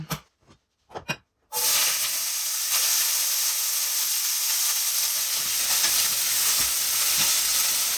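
Eggplant pieces hitting a heated frying pan: after a few quiet clinks, a loud steady sizzle bursts in and holds, close and continuous, with faint scrapes and no speech.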